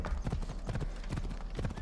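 Horse hooves clip-clop steadily in Assassin's Creed Odyssey, a close, continuous rhythm of repeated hoof strikes at moderate loudness with no speech over it.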